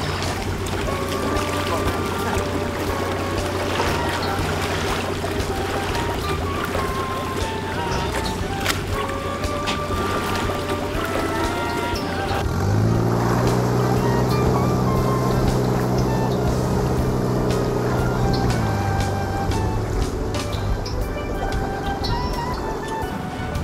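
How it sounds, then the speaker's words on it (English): A 1967 Amphicar amphibious car motors across water, its engine droning steadily while the propellers churn, with water washing and splashing around the hull and a rise in engine note partway through. "As Bob motored away, using the accelerator pedal to control the speed of the props, and the steering wheel to turn the Amphicar by using the front wheels as rudders"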